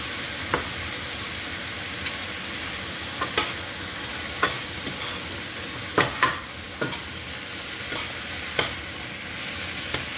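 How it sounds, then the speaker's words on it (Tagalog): Shrimp stir-fried with softened tomatoes in a pan for pinakbet gives a steady close sizzle, broken by sharp spatula scrapes and clicks every second or so, with no talking. "Malambot ng ating kamatis, kaya naman ilalagay na natin ang ating mga hipon."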